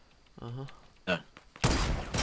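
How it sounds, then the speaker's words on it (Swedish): Sudden burst of rapid gunfire from the Fortnite video game, loud and dense at the end, following short talk from a player. "Nu sköt på någon inte. Ja, de skjuter på någon."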